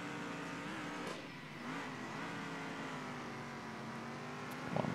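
Muscle car engine in the racing game Circuit Superstars, a steady droning rev with harmonic bands that dip and climb as the car works along a straightaway, held at an even loudness throughout.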